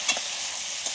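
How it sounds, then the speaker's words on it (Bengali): Ground spice paste, dried red chillies and cumin sautéing together in a pan for a fish curry, giving a steady close sizzle with a couple of brief stirring scrapes. "সবগুলো একসাথে ভালো করে একটু কষিয়ে নেবো।"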